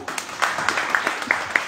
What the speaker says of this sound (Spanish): vamos a darles un último fuerte aplauso